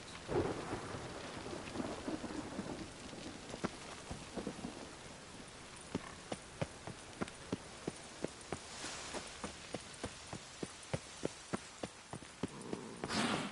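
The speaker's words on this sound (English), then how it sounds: "Rain, I like rain. Rain was coming." Rain and thunder in The Witcher 3: steady rainfall patters with low thunder rumbles, and a run of rhythmic clip-clopping hoofbeats comes in partway through.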